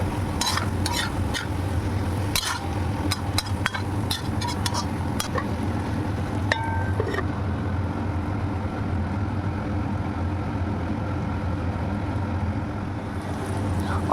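Snake gourd and egg curry cooks in a pan with a steady frying sizzle throughout, while a utensil scrapes and stirs in a quick run of clinks early on before the pan settles into a continuous bubbling hiss.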